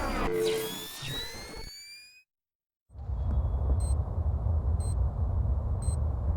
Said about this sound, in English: That's the sound of a wall mine.